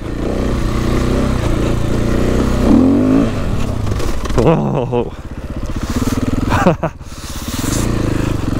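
Enduro motorcycle engine idling loudly up close with a steady throb, then revving up and down in a couple of rising throttle pulls before settling, with someone talking over it.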